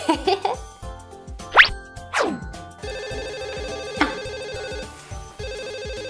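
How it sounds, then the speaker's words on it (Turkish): A phone rings with a tonal, melodic ringtone that repeats in steady pulses, preceded by cartoonish boing and plop effects from a girls' doll game. "Benim telefonu çalıyor."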